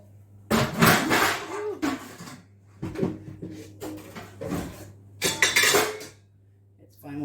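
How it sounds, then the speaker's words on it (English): Stacks of dishes are knocked over in a home kitchen during dough making, giving several loud, close clattering crashes of crockery and cutlery in separate bursts over a low steady hum. "we're just knocking stacks of dishes over"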